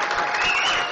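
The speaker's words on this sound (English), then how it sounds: "So everybody just give Frank a round of applause." An audience gives Frank a round of applause at a speech honoring him; dense, steady clapping from many hands fills the room for the whole moment without a break.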